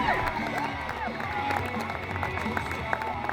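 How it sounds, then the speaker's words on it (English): Spectators cheer and shout at an outdoor extreme mountain bike stunt show at Stanwick Lakes, a steady wash of crowd noise with whoops and children's voices. "the crowd goes wild"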